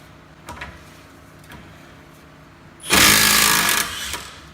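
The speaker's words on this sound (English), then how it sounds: "take a hammer, we'll tap it," A few light taps, then a loud, sustained rapid hammering burst on vice grips clamped to an old nut, metallic and close, lasting over a second.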